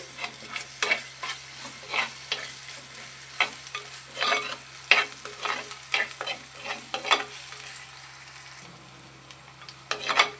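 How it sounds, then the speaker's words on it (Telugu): Freshly pounded ginger paste frying in hot oil for a fish curry, a steady sizzle close by with frequent rhythmic stirring scrapes throughout and no talking. "ఈ అల్లం పేస్ట్ కూడా పచ్చివాసన పోయేంత వరకు ఫ్రై చేసుకోవాలి"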